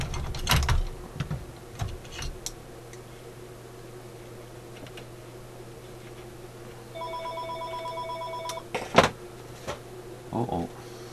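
A telephone rings in a workshop where an antique Simplex vacuum tube radio is being repaired: a short electronic ring repeats for about two seconds over a low steady hum, with clunks and handling noises before and after.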